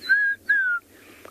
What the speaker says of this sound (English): It's a rufous-napped lark that's calling behind us.